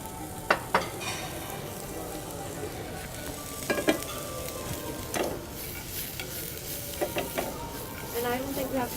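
Vegetables frying in oil for vegetable crepes, a continuous sizzle with occasional clattering stirs and scrapes in the pan, heard close with people talking nearby.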